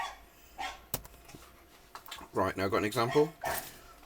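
Dogs bark somewhere in the background of a maths lecture recording, a short cluster of repeated barks sitting under and between a man's speech.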